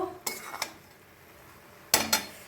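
Cooked bottle gourd greens and tomato get stirred in a pot, heard as two pairs of quick metallic spoon clinks against the pot, close and fairly faint, with quiet pauses between.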